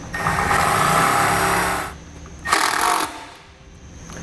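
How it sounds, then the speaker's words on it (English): A power driver runs a self-tapping screw with an 8mm socket while a Roadmaster 7-wire to 6-wire diode wiring kit is fitted to a 2018 vehicle, giving a loud steady whir for about two seconds, then a second short burst. "Use an 8mm socket to run in the screw."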